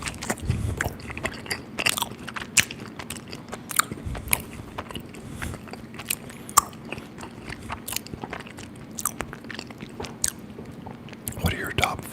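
Chocolate chip bread is bitten and chewed close to the mic as a late-night snack, with crisp crunches and soft mouth sounds repeating irregularly throughout.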